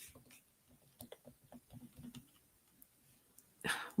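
Faulty computer keyboard clicking, with a quick run of light, irregular taps close to the microphone in a quiet room, then a louder burst of noise at the end.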